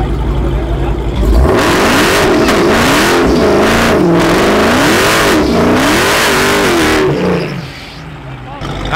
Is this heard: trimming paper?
no